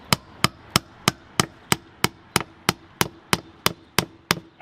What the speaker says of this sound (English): I actually like using my finish hammer on installing windows.